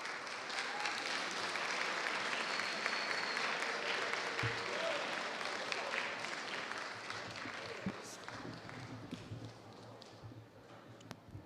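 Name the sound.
applause for the students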